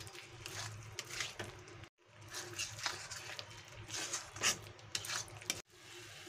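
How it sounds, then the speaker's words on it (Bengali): A spoon stirs fried eggs into egg korma gravy in a pan, giving faint wet scraping and squishing strokes in an irregular rhythm, with two brief pauses. "দিয়ে গ্রেভিটার সঙ্গে ভালো করে মিশিয়ে নেব"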